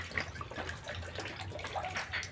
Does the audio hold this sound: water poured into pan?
yes